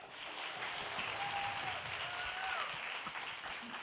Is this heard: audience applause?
yes